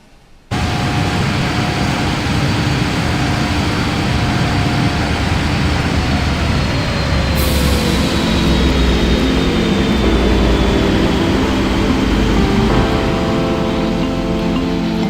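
A PMDG 777-300ER airliner in Microsoft Flight Simulator 2020 gives a loud, steady turbine roar with shifting engine whines, starting abruptly after a short quiet moment and running without any talk.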